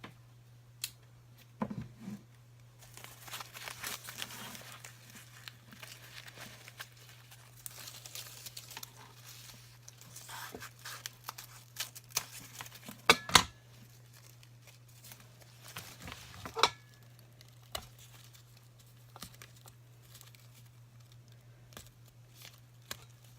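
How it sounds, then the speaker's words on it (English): Scissors snip petals off a cut rose while making an enchanted rose decoration, producing scattered quiet snips and crinkly rustles of petals over a steady low hum, with a few sharper cuts near the middle. "we're going to take the rose we cut off and we're just going to cut off some of the petals"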